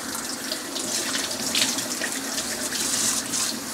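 A kitchen tap runs steadily while a dropped garlic clove is rinsed under it. The water pours close and fairly loud as a continuous hissing splash with small changes in the flow, and no one speaks.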